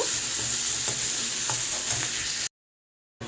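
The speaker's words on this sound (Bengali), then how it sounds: "তেলে পেঁয়াজগুলো বেশ একটু লাল করে আমি একটু ভেজে নেব" Steady, loud sizzling of onions browning in hot oil, with scattered clinks and scrapes of stirring, then a brief cut to silence before the sizzle resumes.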